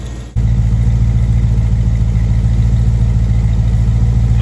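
A Mopar 440 big-block V8 with a six-barrel carburetor setup starts up at once and then runs steadily at a loud, lumpy idle close by, with no voices.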